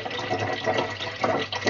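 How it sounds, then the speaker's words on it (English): Water from a five-stage reverse osmosis filtering system pours steadily into a container, a continuous close splashing rush with no talking. "I'm going to be taking the water from my reverse osmosis filtering system"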